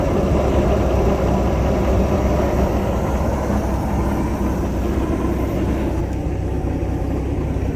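Engine of a 1978 Glastron SSV-117 boat, a 165HP 250 cu in inline six, running with a loud, steady, close rumble that holds evenly from start to finish without pause.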